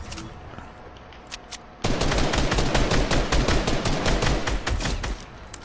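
Heavy automatic gunfire from Fortnite Team Rumble, Season 10, erupts after a quiet stretch and continues as a loud, sustained rapid burst of shots, with no talking over it.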